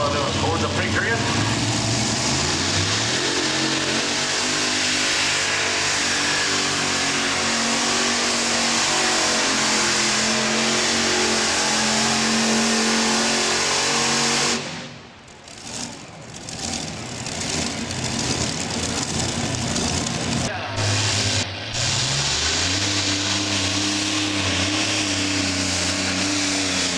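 Modified pulling tractor engines roar loudly at an NTPA tractor pull in Tomah, Wisconsin, a sustained heavy revving drone that dips briefly midway and then surges again, with an announcer talking over the noise.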